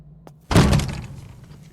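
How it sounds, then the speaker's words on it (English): A door slams shut in the horror game Pieces of Me: one sharp, heavy impact after a short quiet pause, followed by a brief rattling decay. "Stupid door, anyways. Loud noises."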